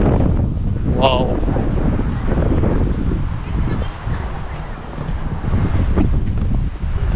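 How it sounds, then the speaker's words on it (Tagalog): Strong wind buffeting a moving vehicle on the way to a picnic grove in Tagaytay, a steady loud rumble of gusts across the whole stretch, with a short burst of speech near the start. "Press na press ang hangin."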